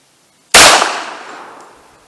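A single sharp, loud .45 ACP pistol shot fires a Remington UMC 230 grain jacketed hollow point into ballistic gel, cracking suddenly after a moment of quiet and ringing out in a long decaying tail.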